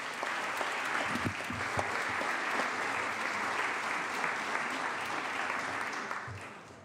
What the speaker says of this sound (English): Let's give a loud applause for the wonderful children today